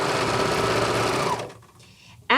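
A sewing machine blind-hems the cuff of a pair of suit pants with a dense, steady stitching whir for about a second and a half. It then drops to near quiet, and a short burst of handling noise follows at the end.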